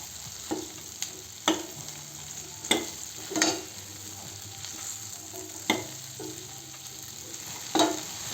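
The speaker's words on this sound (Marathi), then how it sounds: "आता भेंडी घालू आणि छान फिरवून घेऊ" Okra stirred into fried onions and tomatoes in a pan, a soft background sizzle punctuated by sharp, widely spaced spatula clacks against the pan, close and without speech.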